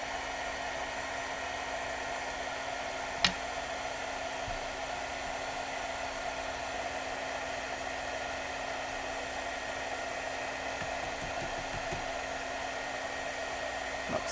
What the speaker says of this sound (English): And I'm going to turn on my heat gun that's over here.